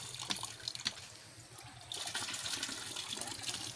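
Strong rainy-season water flowing at a hillside lot, a steady rushing wash that swells louder partway through and continues alone, with scattered splashy drips on top.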